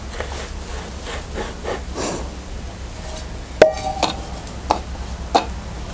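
Rolled wheat khakhra dough sprinkled with sesame seeds is cut on a plate, giving a few soft scraping strokes and then several sharper taps and clicks, close and without talk.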